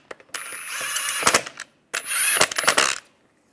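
A wheel lock and lug bolts being tightened on a Volkswagen Beetle wheel with a power tool, two sustained whirring runs, each ending in sharp rattling clicks, close and loud with a pause between.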